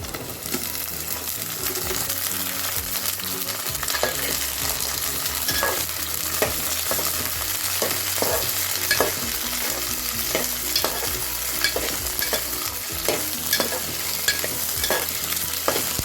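Okra sizzles in hot oil with fried onions in a pan for bhindi curry, a steady close crackle broken by frequent spatula scrapes and clinks against the metal.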